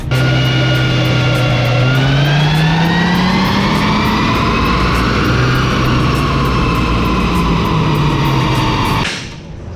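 A Chevrolet Colorado five-cylinder engine is run hard on a dyno, a loud, raspy wail climbing steadily in pitch for several seconds before it cuts off sharply and drops away at the end.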